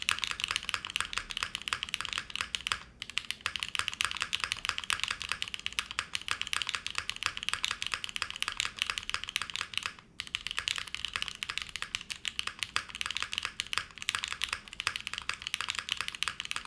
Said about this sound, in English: It has more of an undertone, like it's not quite like super bright and clacky, but it's like that very nice like mid-level sound signature.